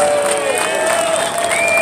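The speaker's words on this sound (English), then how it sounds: "Can we get a big round of applause for these guys?" A dense crowd at an outdoor rally in Salem, Oregon roars with cheers and clapping, loud and continuous throughout, with high whistles cutting through near the end.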